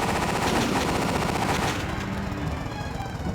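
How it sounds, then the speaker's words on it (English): Machine gun fire in a SEGA CD game, a continuous rapid rattle of shots that stays loud, then thins slightly toward the end, with no talk over it. "Oh, machine guns, of course."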